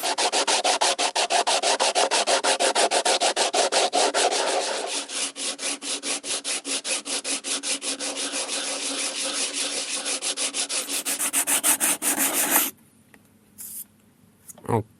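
Sandpaper is worked by hand across the wooden bridge of a Yamaha C-350 guitar in fast, regular rubbing strokes for about twelve seconds. It is close and fairly loud, then stops, and a few faint knocks follow.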